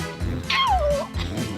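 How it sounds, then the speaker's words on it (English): A family dog gives a short yip that slides into a whimpering whine, close and fairly loud, with no talk around it. "And the family's dog isn't helping matters."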